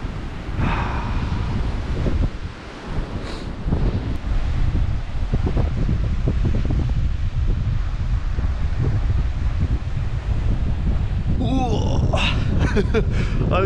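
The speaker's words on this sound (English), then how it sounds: "Windy, but fresh and nice." Strong winter storm wind on a remote beach buffets the microphone in a constant roar, with a brief lull near the start and a few faint chirps toward the end.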